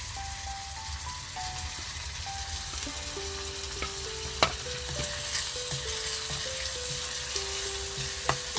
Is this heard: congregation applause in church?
no